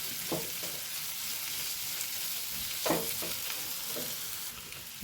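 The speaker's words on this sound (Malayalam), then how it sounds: "കടലയിൽ ഉപ്പിട്ടിട്ട് ഇതൊന്ന് വാട്ടി കൊടുക്കാം" Salted chickpeas sautéing in a pan, a steady close sizzle with a few scraping stirs of a spoon against the metal, no voices.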